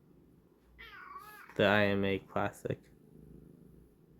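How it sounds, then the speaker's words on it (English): A pet cat named Tomoko meows a few times close by. A soft purr sits underneath, and a person speaks briefly over the top. "That's my cat"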